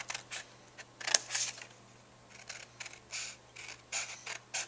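Scissors snip through paper for a handmade mini album in a series of quick, soft, close-up cuts, spread irregularly across a quiet room.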